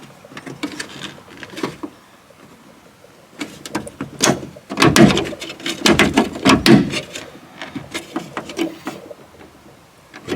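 Plastic door panel of a Honda Jazz/Fit GD is pushed into place and clipped onto the car door, giving a series of close knocks, rubs and sharp clicks in uneven bursts with no talk.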